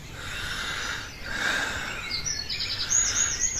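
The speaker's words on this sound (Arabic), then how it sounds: "بسمع صوت العصافير" Birds chirp at dawn on a farm, with small high tweets rising out of a steady outdoor hiss, becoming more frequent in the later seconds and sounding fairly distant.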